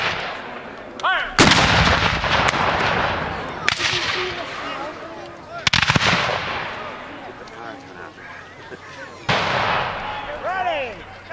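Volleys of rifle fire at a Civil War reenactment: several loud, booming cracks a few seconds apart that echo and decay, with shouted voices between them.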